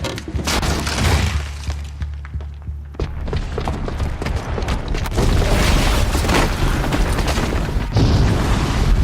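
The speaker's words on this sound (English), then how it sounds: "the booby trap on the bomb downstairs is gonna get set off" A booby-trapped bomb detonating in Horizon Zero Dawn, a dense rumbling barrage of booms, cracks and crumbling debris, loud and sustained, with heavy low thuds and a renewed burst near the end.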